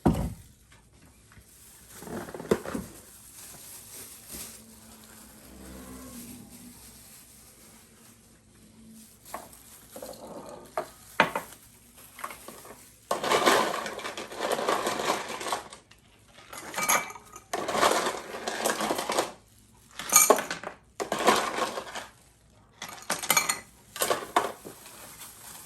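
Ice cubes clatter into a glass for a Blue Lagoon mocktail in repeated bursts of clinks and knocks, close and crisp, broken by short pauses between handfuls.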